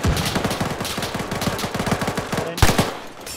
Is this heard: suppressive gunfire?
yes